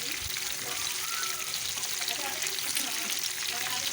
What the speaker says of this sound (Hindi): देखें कितने अच्छा फ्राई हो रहा है और बड़ा क्रिस्पी सा बना है